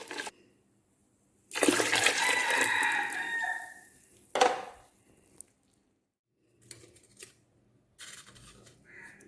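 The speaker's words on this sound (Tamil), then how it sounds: "நான் தேங்காய் பால் 2 கப்பு ஊற்றுறேன்" Two cups of coconut milk poured into ground urad dal batter for ulundhu kanji, a liquid gush of a couple of seconds, then a brief splash and faint stirring sounds, fairly close and quiet.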